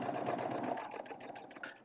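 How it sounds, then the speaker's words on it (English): A sewing machine runs a quick burst of test stitches through a scrap of vinyl, a close, rapid mechanical whir that slows slightly toward the end. "take a piece of scrap vinyl and I'm just going to sew a few stitches to make sure I have good settings"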